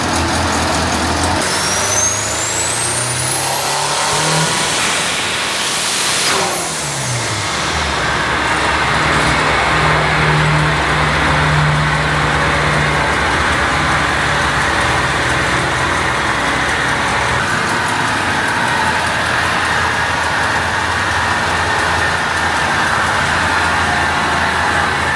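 A Brazil car running on a dyno in preparation for a hill climb: a continuous loud engine drone with a rising rev near the start, steady and close for the whole stretch.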